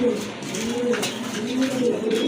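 A male satin pigeon with feathered feet coos close up in a low, rolling, repeated call that swells and dips across the whole moment, with no talk over it.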